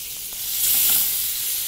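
Spice paste dropped into hot oil in a pan bursts into a loud hissing sizzle about halfway through and keeps going steadily to the end, with no talking.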